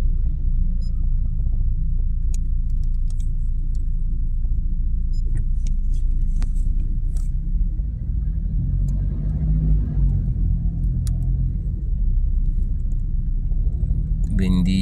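Car traffic on an elevated skyway rumbles steadily from inside a moving vehicle, with a constant low road drone and occasional voices in the car.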